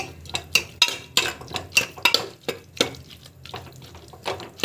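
A utensil scrapes and clinks against a pot in quick, uneven strokes, with faint wet sloshing underneath. No one speaks.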